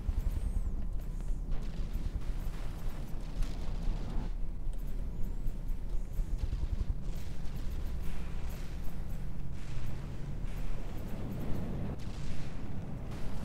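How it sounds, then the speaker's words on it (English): Frag shells fire and burst in the naval combat game From the Depths, a dense, continuous rumble of booms and blasts with no pauses, loud and steady throughout. "Those frag shells just do a great job of tearing apart pieces of him."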